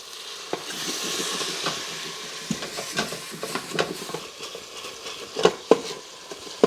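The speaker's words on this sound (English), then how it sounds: "just to deglaze the bottom of the pot to make sure all the brown bits are scraped up." Liquid hissing in a hot Instant Pot on saute mode while a utensil scrapes browned bits off the bottom for chana masala, steady sizzle broken by repeated close scraping clicks and clatters that grow louder toward the end.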